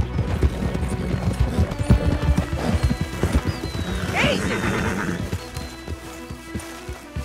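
Horses in the Red Dead Redemption 2 video game, with steady hoof clip-clop on the ground and a whinny partway through, close and fairly loud against a busy ambient background.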